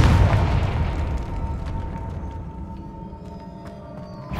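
A loud booming explosion from the Confringo fire spell in the Hogwarts Legacy video game, a heavy low blast at the start decaying into a rumbling tail with scattered crackles.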